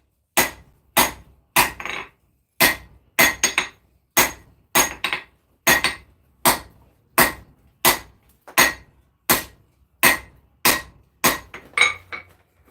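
Hammer striking a knife blade on an anvil while forging its point, about twenty sharp ringing blows in a steady rhythm, some as quick doubles, close and loud with no talk.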